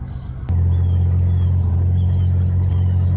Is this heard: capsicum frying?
no